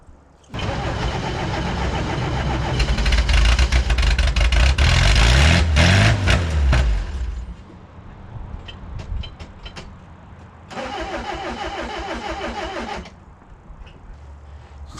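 An old Toyota Hilux that has sat for a very long time cranks, catches and runs loudly and roughly for several seconds, dies back to a quieter idle, then surges again briefly before falling off.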